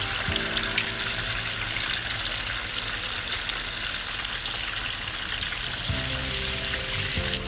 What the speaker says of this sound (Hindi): देखिए तल रहा है ये अच्छे से।